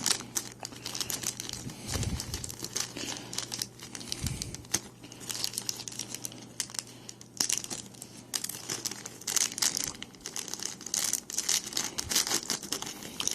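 Plastic packaging crinkles and rustles continuously at close range while a figure is pulled out of its box, with irregular bursts of crackling and occasional tearing.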